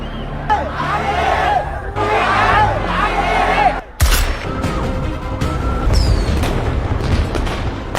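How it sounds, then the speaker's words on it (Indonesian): Loud gunfire and booms crack through an action film scene in which police fire shots during a chaotic street protest. Crowd noise churns beneath the blasts, with a sharp heavy hit midway followed by scattered bursts. "hingga harus mengeluarkan tembakan."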